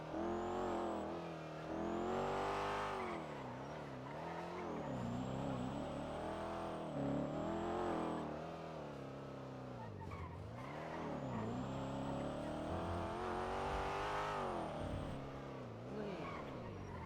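A car driven in a Black Ops video game revs up and down in repeated waves, with its engine pitch climbing and falling as it accelerates and brakes, plus intermittent tire squeal, heard fairly faint.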